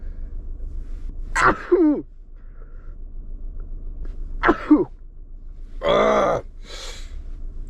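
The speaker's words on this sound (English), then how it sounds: "Oh, I'm about to sneeze." A few strained vocal bursts build into one loud sneeze near the end, followed by a brief breathy exhale; no talking.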